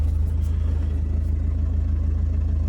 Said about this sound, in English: So we got it running, finally, after God knows.